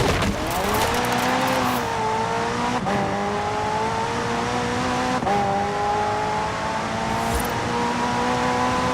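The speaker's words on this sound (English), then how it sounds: "The car's blistering performance is delivered by a twin-turbo V8, supplemented by a McLaren ECU electric motor and instant power assist system" A McLaren hybrid twin-turbo V8 supercar in Forza Horizon 4 drives with a steady, loud engine drone that rises through the gears, with brief dips at two shifts and faint tyre noise underneath.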